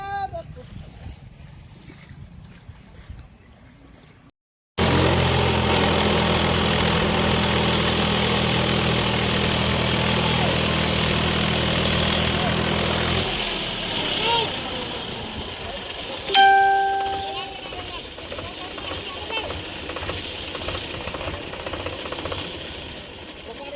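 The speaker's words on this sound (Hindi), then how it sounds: "ट्रैक्टर से खींचेंगे, खोल रहे हैं।" A tractor engine in rural Chhattisgarh pulling a stuck vehicle free, a loud sustained engine drone that starts abruptly after a quieter stretch, then eases off to a lower rumble with faint voices in the background.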